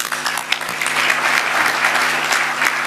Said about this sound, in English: allow us all to join our hands together for a round of applause